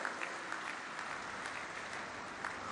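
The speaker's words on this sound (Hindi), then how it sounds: "एक बार आप सभी लोगों की तालियों की गड़गड़ाहट के साथ इन परियोजनाओं का अभिवादन हम करें" Audience at a public event where the prime minister launches development projects, applauding in a steady dense patter of many hands, fairly quiet and continuous with no voices over it.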